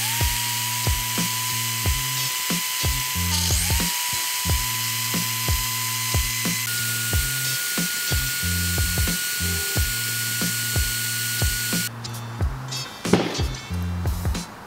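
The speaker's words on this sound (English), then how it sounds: "We're gonna begin sanding with 600, 800, and then 1000 grit" Steady mechanical whirring with a rhythmic, repeated scraping pattern of power sanding plastic car headlight lenses with 600 to 1000 grit, continuing throughout with pitch shifts midway.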